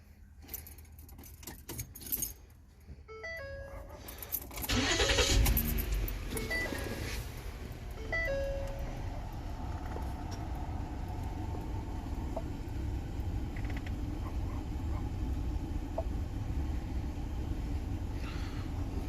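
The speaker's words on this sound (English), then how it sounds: "they start getting a clicking sound in the dash" Clicking and tapping from a failing blend door actuator inside a 2014 Ford Explorer dashboard, a few short ticks early on, then a steady engine rumble and hum fills the rest.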